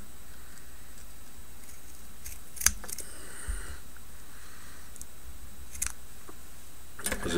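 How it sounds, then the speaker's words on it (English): Scissors trimming excess feather material folded along a burner's edge while tying caddis tent wings, a few faint, sharp snips spaced apart against a quiet background. "Take your scissors, trim off any excess"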